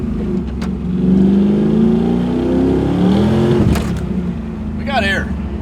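A modified Trans Am WS6 with an LS V8 engine accelerates hard, its loud mid-range roar rising steadily in pitch across several seconds, with people's voices audible over the engine near the end.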